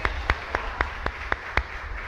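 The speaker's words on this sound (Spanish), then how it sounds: "Un fuerte aplauso." A church congregation at a Mass celebrating a parish community's 50th anniversary claps in unison, with about seven sharp, evenly spaced claps in a steady rhythm against a quiet room.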